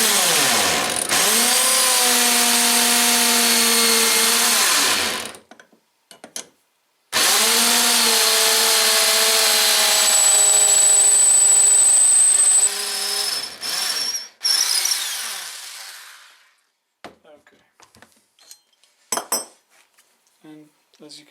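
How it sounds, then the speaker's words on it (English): A power drill bores a hole through a metal cymbal stand part held with pliers: two long, loud, whining bursts with a rising then steady pitch, followed by faint scattered clinks and taps. "I got a hole drilled all the way through"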